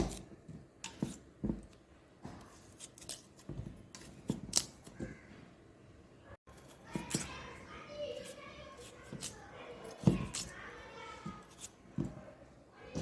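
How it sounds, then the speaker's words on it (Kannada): Potatoes are cut into small pieces in a kitchen, with a series of sharp, irregular chopping clicks and scrapes. Someone talks quietly between and over the cuts. "ಈ ಆಲೂಗಡ್ಡೆನ ಸಣ್ಣ ಸಣ್ಣ ಪೀಸ್ಗಳಾಗಿ ಕಟ್ ಮಾಡಿ ಹಾಕೋಬೇಕಾಗತ್ತೆ"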